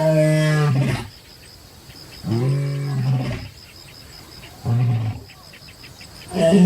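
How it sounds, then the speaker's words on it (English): A distant lion roars at night in the African wild, three deep drawn-out calls separated by pauses, with a thin, high insect whine running steadily behind. "The roar of a distant lion."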